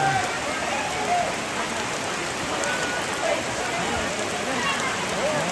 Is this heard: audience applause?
no